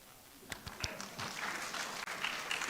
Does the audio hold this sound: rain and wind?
no